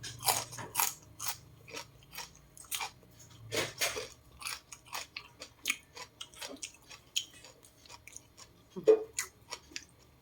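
Someone eating Thai chicken and tilapia curry with sticky rice, close irregular chewing and soft crunching bites with occasional clicks, no talking.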